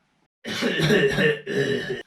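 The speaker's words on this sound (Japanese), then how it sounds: "大丈夫？ 咳ひどいね。" Two harsh, raspy coughing bursts close to the listener, a long one followed by a shorter one, with a throaty, rattling quality.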